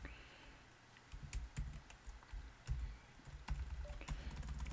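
Soft, uneven keystrokes on a computer keyboard as a ping command is typed into a command prompt, quiet and close, with brief pauses between bursts.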